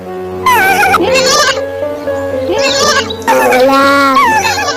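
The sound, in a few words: lamb bleating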